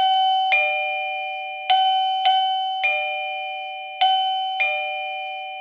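A wireless transmitter alarm plays a loud, close melody chime, repeated ding-dong tone pairs sounding in three groups with ringing decay between strikes.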